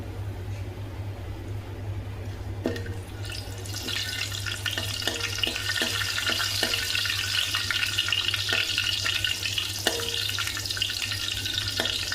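Steady oil sizzling and crackling close by as cinnamon, cloves and star anise fry in a pan, with occasional sharp pops and clinks of a utensil against the pan, no talking.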